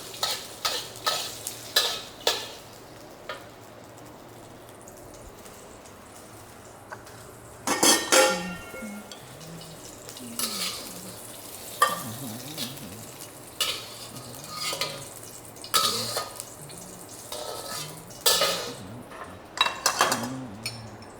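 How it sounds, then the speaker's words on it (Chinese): Onion being stir-fried in an oiled pan, a low sizzle under repeated scraping and clinking of a utensil against the pan in an uneven rhythm, close and without talk. "那洋葱啊哈，我这样炒一下哈"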